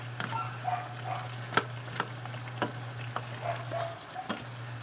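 A utensil taps and scrapes in a pan while chop suey vegetables with sayote are mixed, with soft, regular knocks over a faint sizzle and a steady low hum.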